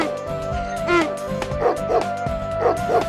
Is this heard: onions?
no